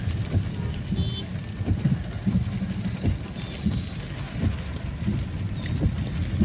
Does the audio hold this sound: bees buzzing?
no